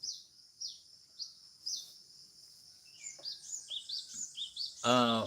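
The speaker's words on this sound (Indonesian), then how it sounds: "Enak di sini kan, suara burungnya dapat." Birds chirp outdoors in a quiet setting, with a series of short, high, repeated tweets and calls, faint at first and then livelier, before a voice briefly speaks at the end.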